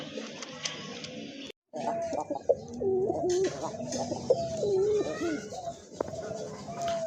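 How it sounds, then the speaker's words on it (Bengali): Pigeons coo repeatedly in low, throaty, rolling calls, fairly close, over a steady background hum with a brief silent gap. "আরেক জোড়া কবুতর"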